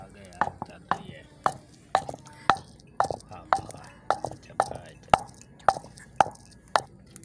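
Boiled potatoes being pounded by hand for aloo salan, a steady run of about fourteen sharp, evenly spaced thuds, close and fairly quiet, with no talk over them.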